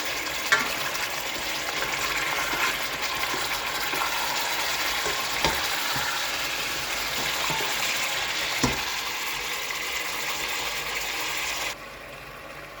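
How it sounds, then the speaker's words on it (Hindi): One kilogram of mutton fries in a pan with a loud, constant sizzle and hiss up close. A few sharp clacks of stirring cut through before the frying noise drops slightly at the end. "अब इसको मटन को फ्राई करेंगे तब तक इसका कलर चेंज हो जाए।"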